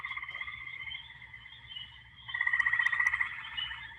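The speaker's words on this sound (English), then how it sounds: "my favorite amphibian species in the state is the gray tree frog. Here's a male calling for you." A male gray tree frog gives loud, rapid trilling calls that swell and fade, with a chorus of spring peepers running steadily behind it in a wetland at night.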